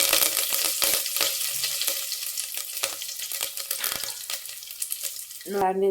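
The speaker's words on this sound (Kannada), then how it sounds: "ಫಸ್ಟಿಗೆ ಒಗ್ಗರಣೆ ಕಟ್ಕೊಂಬಿಡ್ತೀನಿ ಈಗ ಸಾಸು ಜೀರಿಗೆ ಹಾಕಿದ್ದೀನಲ್ವ" Mustard and cumin seeds sizzle in hot oil as a tempering for temple-style sambar, a steady close crackle with faint stirring and a brief change in tone at the end.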